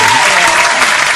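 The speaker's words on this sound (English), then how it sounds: "You gotta give some applause for" An audience breaks into loud, dense applause that holds steady and continuous through the short stretch, with no voices on top.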